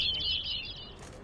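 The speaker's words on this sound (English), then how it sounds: "Man, this is a noisy bird." A noisy bird in The Witcher 3 video game chirps rapidly in a bright, close trill that fades out after about a second, with a brief breathy rustle at the end.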